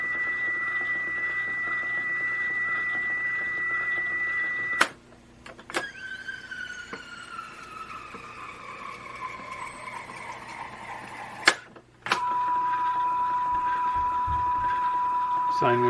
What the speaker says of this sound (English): There's a sine wave. Definitely hear some flutter in there.